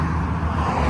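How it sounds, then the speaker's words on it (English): A car passes on a road beside a Blue Ridge Parkway trail in North Carolina, a steady broadband rumble of engine and tyre noise that fills the entire second. "Sorry for the car noise."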